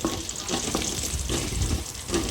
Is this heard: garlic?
yes